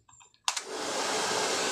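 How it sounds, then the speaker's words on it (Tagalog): Hair dryer blower switching on after a few faint clicks, then a steady loud whooshing hum of air running at a haircut, used to drive away mosquitoes. "Ano na tayo ng blower para mawala yung mga lamok-lamok na iyan."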